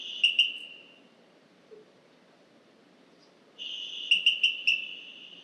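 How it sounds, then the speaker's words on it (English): A recorded call of a small frog plays as two bursts of high, thin, whistle-like trilling notes with short chirping pulses, separated by a quiet gap and a low background hiss. "In reality, it's this little frog. So I'm going to play the call for you real quick just so you can hear it"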